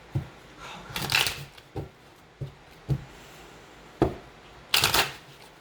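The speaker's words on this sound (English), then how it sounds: "I will grab some love cards for you" Tarot love cards are handled and shuffled in soft bursts of riffling and sliding, with several separate flurries and taps spread across a quiet room, close to the ear and with no talking.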